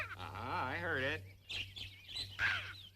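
A red-breasted nuthatch calls indoors in a comedy scene set around New York City birds, giving a few short, bright chirps after an opening wavering, nasal tone, with voices in the background.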